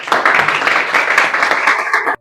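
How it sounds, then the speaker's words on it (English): Applause from a room of listeners at a talk, continuous and fairly loud, with clapping that stops abruptly at the end. "let's give a big clap to Jasur to explain the rest"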